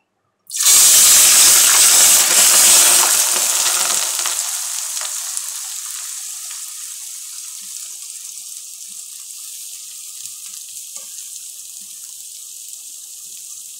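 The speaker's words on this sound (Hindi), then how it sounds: "पतीली में ऑयल डाल दिया है तकरीबन तीन कप है अब इसमें हम प्याज डालेंगे" Onions dropped into about three cups of hot oil in a cooking pot for a spicy stew give a loud, bursting sizzle that gradually settles into a steady, quieter frying hiss.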